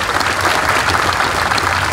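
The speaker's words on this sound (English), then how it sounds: "let's give our awardees a round of applause" Steady, dense applause from a ceremony audience honoring awardees, sustained and fairly loud throughout with no pauses.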